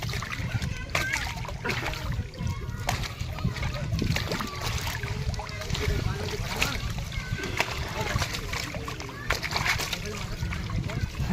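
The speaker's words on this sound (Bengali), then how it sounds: "আমি এখানে দাঁড়িয়ে গাড়ি ধুচ্ছি" Water splashing and sloshing as cars are washed using floodwater in a flooded street, a continuous close churning splash with voices talking over it.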